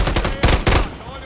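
Loud, close automatic gunfire in Call of Duty Warzone comes in three rapid bursts of sharp shots, then fades into a trailing echo.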